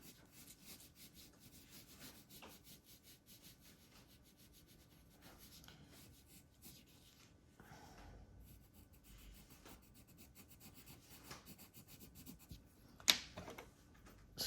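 A pencil shades dark strokes on paper while a glass and its shadow are being drawn, producing a soft, continuous close-up rubbing scratch with a few sharper strokes near the end.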